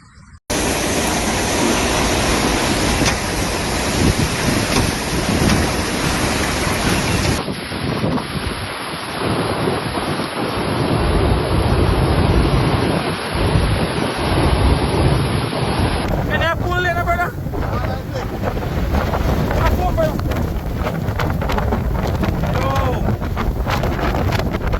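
Hurricane Melissa batters Jamaica with winds of 280 km/h. Roaring wind and driving rain fill every moment at full, unbroken loudness, and the scene cuts abruptly between different recordings of the storm.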